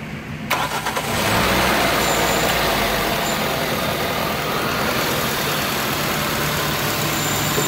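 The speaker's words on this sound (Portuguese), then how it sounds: "Ó, como é que o motor não vibra mais, não faz mais barulho." A Toyota Corolla engine, previously misfiring, starts after a brief quiet moment and settles into a steady, smooth idle, a constant close mechanical hum with no audible stumbling.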